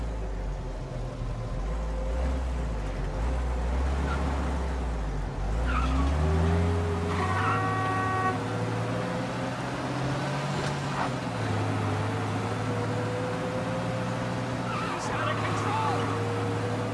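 A car in Mafia Definitive Edition skids out of control, a rising tire squeal sweeping over a loud, steady engine rumble, with game voices talking over it.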